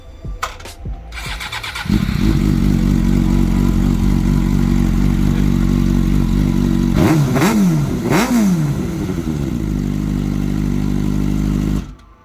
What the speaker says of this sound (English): why not you rev a cold bike